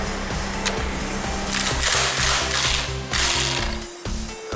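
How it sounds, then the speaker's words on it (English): Pneumatic impact wrench spinning off 15mm bolts on a 2.4L Chrysler PT Cruiser during timing belt work, a loud close rattling buzz with rapid hammering bursts, briefly easing and resuming over about four seconds. "We're going to use the impact so it's quicker."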